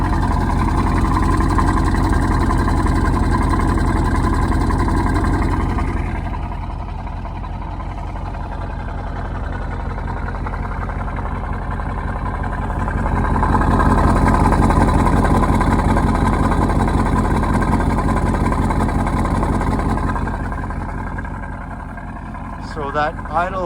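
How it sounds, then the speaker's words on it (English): Exhaust of a Lingenfelter-modified 2010 Mercedes-Benz SL550 AMG roadster, a steady loud engine drone that swells as the throttle opens, with a voice talking over it throughout. "When you open up that throttle though,"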